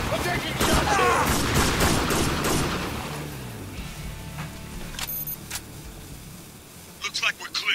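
Gunfire from the video game Spec Ops: The Line: a loud, continuous burst of firing in the opening seconds eases into scattered sharper shots and impacts, with chatter from in-game voices running beneath.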